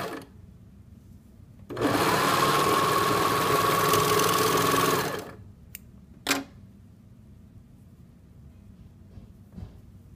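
A sewing machine stitches a t-shirt neckband seam in one steady, loud whirring run of about three seconds, then stops, followed by a couple of brief clicks and handling noises in a quiet room.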